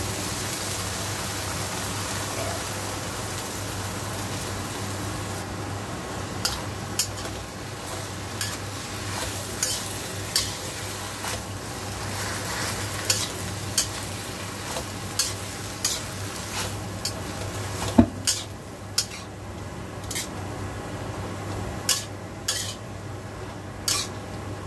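Kangkong (water spinach) is stir-fried in a pan under a constant low sizzle, with a rising series of sharp clicks and scrapes from a utensil stirring against the metal.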